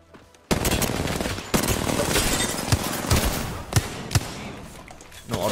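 Wingman pistol shots in a video game ring out as several sharp, loud cracks over dense, busy game noise, spaced irregularly across the moment.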